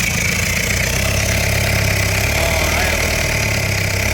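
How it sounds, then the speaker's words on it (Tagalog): An engine-driven water pump runs at a steady, loud, even drone the whole time, with a low mechanical hum under a broad hiss, and a brief voice is heard once. "Lakas ng bomba."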